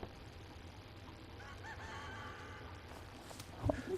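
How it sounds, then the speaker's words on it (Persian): Chicken in the Resident Evil 4 Remake video game, clucking faintly amid a steady low in-game ambience, with a brief louder thump near the end. "مرغ"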